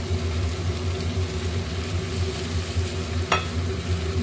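Ground spices for egg curry sizzle and crackle in a hot pan while being stirred, a continuous close frying hiss over a low steady hum, with a brief sharp scrape of the spoon near the end.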